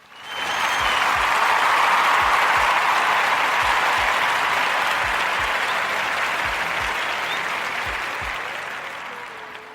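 Loud, sustained applause from an audience welcoming a podcast host, a dense even roar of clapping that swells quickly and slowly fades toward the end.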